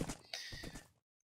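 A horse in a Minecraft Hunger Games match is struck, giving a short burst of hurt whinny and thudding clip-clop, loud and close, cut off abruptly after about a second, followed by silence.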